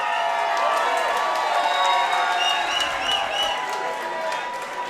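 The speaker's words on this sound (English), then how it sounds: "so a big round of applause for that." Kickboxing fight-night crowd cheering and clapping loudly, with shrill screams and whoops over continuous applause that eases slightly at the end.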